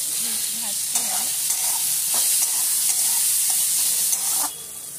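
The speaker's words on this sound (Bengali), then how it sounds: "এটা হালকা আছে ধীমে ধীমে ভাজতে হবে।" Lady's finger frying slowly in a covered pan, a continuous soft hiss of gentle frying with occasional faint taps, fading near the end.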